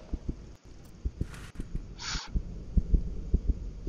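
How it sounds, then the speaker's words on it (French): A heartbeat in the horror video game The Joy of Creation thumps in low, steady double beats that quicken over the few seconds, loud and close, with brief hiss and noise bursts above it. "Le battement de cœur qui s'accélère."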